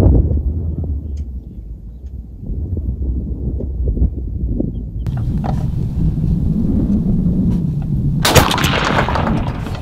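A 20 gauge shotgun fires a pattern test shot with a small town hunting blend of seven and a half and nine shot lead by Apex. A single loud outdoor blast lands near the end over wind noise.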